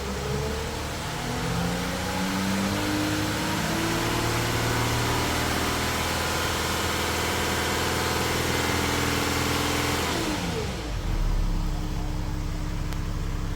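An Audi engine with a DPF fault code P0471 is revved and held steady at about 2500 rpm, giving a sustained, even drone that drops sharply near the end before settling again.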